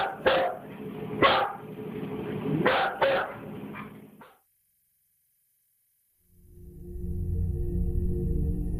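A dog barks in several sharp, close bursts spread over a few seconds, then goes quiet before a low steady rumble comes in.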